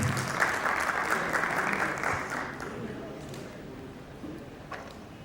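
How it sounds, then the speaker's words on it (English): Audience applause welcoming panelists at a fireside chat panel discussion for entrepreneurs, a dense round of clapping that is loudest at first and then thins out and fades over several seconds. "Let us all welcome them with a big round of applause."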